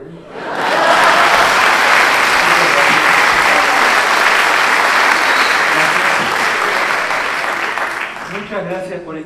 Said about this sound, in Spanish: Estoy esperando que me aplaudan